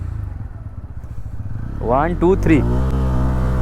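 Bajaj Pulsar N160 SS motorcycle launching hard, the engine revving up and climbing through gears with rising pitch, close and loud, after a short spoken countdown over its idle.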